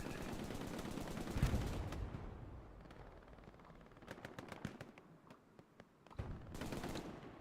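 Machine gun fire in Hell Let Loose on Omaha Beach comes as faint, distant crackling bursts. Scattered rapid shots stand out in the middle of a quiet battlefield background.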